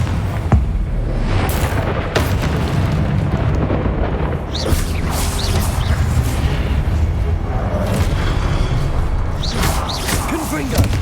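Repeated blasting-spell explosions from Hogwarts Legacy combat, loud booming bursts landing one after another over dense game noise, with a voice shouting spell names in between.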